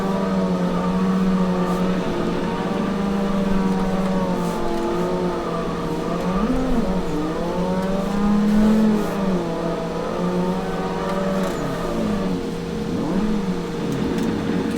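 A car drifts in the Assetto Corsa racing game, its engine droning and revving in steady, wavering pitch sweeps with faint tyre noise, held loud and continuous for the whole stretch.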